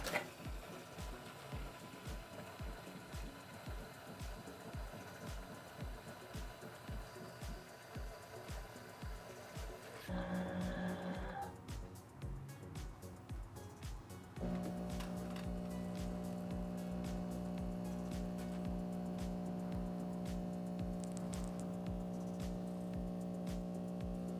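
A fully automatic coffee machine makes an iced cappuccino. Rapid mechanical ticking and grinding are followed by a short gurgling pump phase, then a steady buzzing hum from the frothing or dispensing. It is quiet and close, with no talk.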